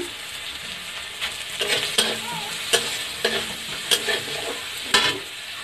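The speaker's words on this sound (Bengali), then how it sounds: "পেঁয়াজটা আমার ভাজা হয়ে গেছে" Chopped onion with a little turmeric fries in a pan for a fish curry. A soft continuous sizzle is broken by regular scraping stir strokes about every second.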